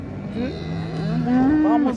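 A Simmental cow at a cattle market in Şarkışla, Turkey, gives one long, close moo that rises in pitch near the end, over low market background noise.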